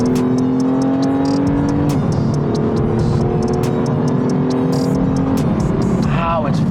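A BMW M4 with Akrapovic exhausts revs hard and climbs through the gears as it accelerates to overtake, loud and close inside the cabin, with a person talking over it.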